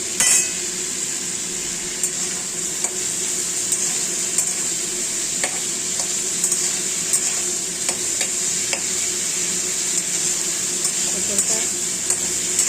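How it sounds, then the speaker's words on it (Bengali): Pointed gourd frying with salt in a pan over high heat, a constant bright sizzle broken by regular spatula taps and scrapes against the metal, no talking. "পটলটা একটু নুন দিয়ে ভেজে নিচ্ছি। আঁচটা কিন্তু আমি একটু বাড়িয়ে নিয়েই ভাজবো।"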